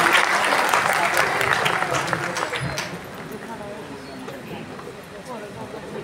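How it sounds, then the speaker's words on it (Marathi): Loud audience applause fills a state-level award ceremony hall in Solapur, steady clapping from a large crowd that fades gradually over several seconds, with some background murmur. "जरा जोरदार टाळ्या वाजवू दे."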